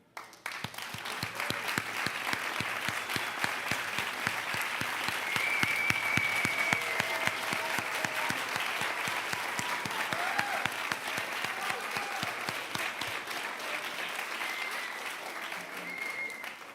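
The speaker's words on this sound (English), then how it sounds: "Staff, please stand so that we can truly applaud you." Steady applause from a high school commencement audience honors the standing staff, a continuous wash of many hands clapping, moderately distant and even throughout.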